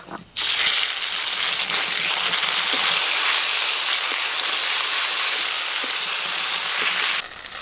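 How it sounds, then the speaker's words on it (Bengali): A ground five-spice paste of bay leaf, ginger, cumin, coriander and fennel hits hot oil for a fish curry and sizzles loudly and steadily for several seconds, then cuts off abruptly. "আজকে আলু পটল দিয়ে মাছের ঝোলের জন্য ফোড়নে আমি 5 ফোড়ন দেব।"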